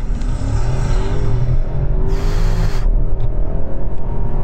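A new BMW 7 Series accelerates hard from a standstill in a 0 to 60 run, its engine roaring loud and close with rising revs and a brief gear-change break, with no talk.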